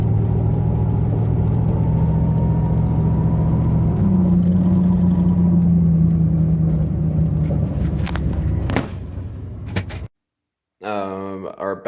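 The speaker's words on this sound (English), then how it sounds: "There is some gear whine on deceleration and light acceleration." A turbo Mustang on the road, its cabin full of low engine and road rumble, with a steady gear whine that drifts downward in pitch as the car decelerates, before the sound cuts out briefly.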